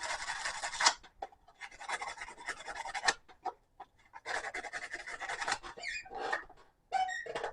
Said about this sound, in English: Cleaned all 3 of them up with 80 grit